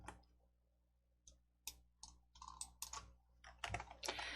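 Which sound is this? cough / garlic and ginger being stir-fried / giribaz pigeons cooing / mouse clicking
mouse clicking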